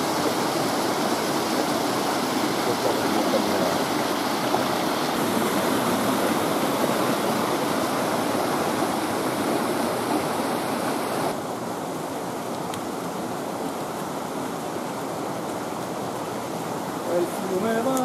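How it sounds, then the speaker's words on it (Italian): Steady rushing water flows continuously, broad and full like a river current, at an even level throughout with no voices. "Il fiume va."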